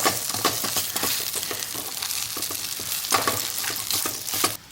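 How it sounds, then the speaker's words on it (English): Steady sizzling fills a camp skillet as gnocchi with peas toasts, with scraping stirs and crackles breaking through the constant frying hiss until it drops away at the end. "what's going on with that gnocchi? Don't blacken it, just brown it, Bear."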